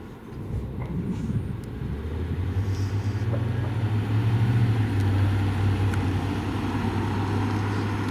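A 2003 Mercedes-Benz S55 AMG pulls away with a steady low engine rumble that swells and holds as the car gets moving, heard from inside over constant road noise with no talking.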